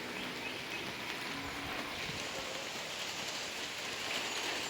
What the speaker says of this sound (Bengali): প্রচুর পরিমাণে বৃষ্টি হইতেছে।